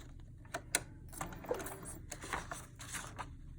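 A home sewing machine stitches forward along a practice sheet, turning an inside corner with short bursts of needle chatter and mechanical clicks, close and fairly quiet, with no talk.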